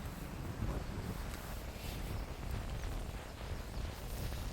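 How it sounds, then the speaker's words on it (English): Strong, gusty wind buffets the microphone outdoors in a churchyard, a continuous low roar with no talking. "That wind is brutal today."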